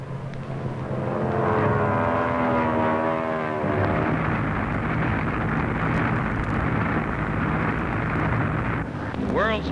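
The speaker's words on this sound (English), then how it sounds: "Streaking down from the sky at 180 miles an hour, 4 Army Air Corps planes let out their blinding curtain." Four Army Air Corps propeller planes dive at about 180 miles an hour while laying a smoke screen, a loud, sustained engine roar that shifts downward in pitch as they pass, with wind noise throughout.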